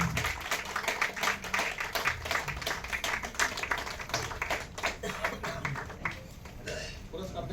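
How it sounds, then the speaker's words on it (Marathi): Crowd applause at a book launch for a poetry collection, a long stretch of many hands clapping in a sharp, crackling rhythm, fairly close and steady, tapering slightly toward the end. "जोरदार टाळ्यांचा गजर"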